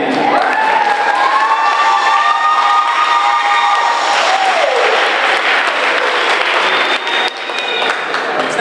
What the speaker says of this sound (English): How about another round of applause for the concert band?